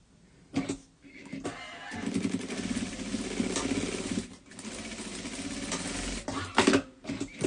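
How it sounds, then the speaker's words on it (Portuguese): Sewing machine running in steady bursts as it stitches a seam closing a sleeve on a children's garment, the motor whirring loud and close with a brief pause midway and short stops near the end. "vou passar uma costura aqui fechando a minha manga"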